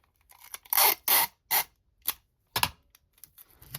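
Washi tape torn off in short ripping strips, several crisp rasping bursts in quick succession then a few softer ones, close and clear in a quiet room.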